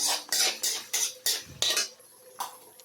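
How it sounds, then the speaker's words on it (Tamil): A ladle stirs ginger garlic paste in a pan, producing a quick series of about eight scraping, clinking strokes in a steady rhythm, close and moderately loud. "கரண்டியில் நல்லா கிண்டி விட்டுக்கலாம்"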